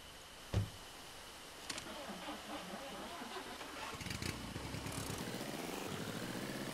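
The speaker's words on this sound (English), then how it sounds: "Oh, listen to that engine." A car engine in the video game Jalopy starts with a sharp knock, then runs at a quiet, steady idle that grows slightly rougher toward the end.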